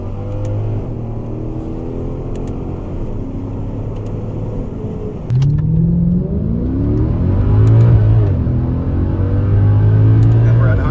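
Mercedes CLS63 AMG accelerating hard on a gravel road, its engine note climbing and surging louder through rising gears, heard from inside the car with someone talking over it.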